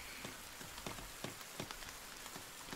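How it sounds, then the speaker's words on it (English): Rain falling outdoors onto a shelter at a campsite fire, with scattered, irregular drops tapping and pattering over a quiet steady hiss, fairly close and faint, with no talking. "there's now rain, that's why we need a shelter on it."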